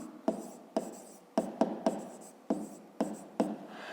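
Handwriting with a pen on paper in a maths exercise, about eight short scratchy strokes in quick irregular succession, each starting with a sharp tap, close and quiet, no voices.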